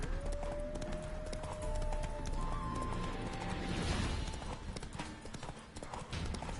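Quick, steady horse hooves clopping along, with a brief whinny near the start, layered over game music and ambient noise.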